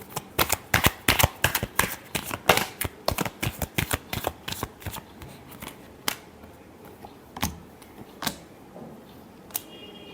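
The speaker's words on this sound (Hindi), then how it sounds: "Last shuffle." Tarot cards are shuffled in a rapid burst of crisp, close flicks and riffles that thin out into a few separate snaps and slaps. Nobody speaks.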